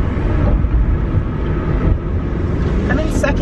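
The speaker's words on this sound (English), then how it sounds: "Oh, there's a train." A train rumbles past an open car window during a drive, its loud, steady clatter and roar filling the whole stretch and mixing with road noise from the car.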